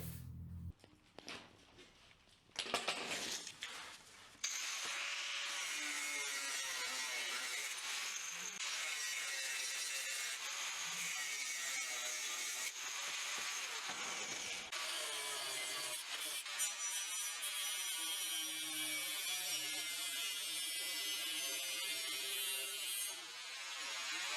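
An angle grinder whines loudly cutting through metal in long continuous passes, with brief pauses and changes in pitch as it bites.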